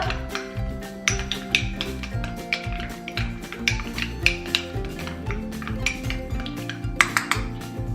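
A utensil mixes a mayonnaise and sour cream dip with seasoning in a dish, giving a steady run of clinking, tapping strokes against the bowl, close and fairly quiet, with no talking.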